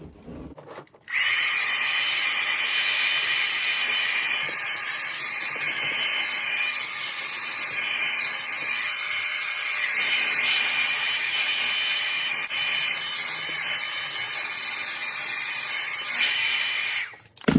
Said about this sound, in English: that little bit of heat that I added with my hairdryer